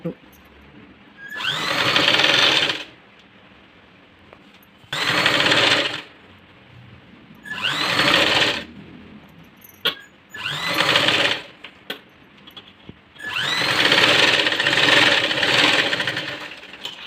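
A sewing machine stitches a princess-cut blouse in several close, loud whirring runs of one to three seconds each, separated by short pauses, with a voice talking between the runs.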